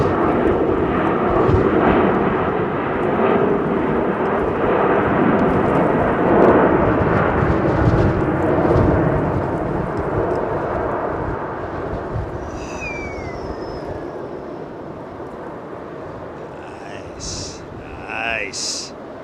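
A Turkish Boeing 777 with CF6 engines does a touch and go at London Heathrow, a loud, rumbling jet roar that builds and then fades with distance, with people talking and birds chirping near the end.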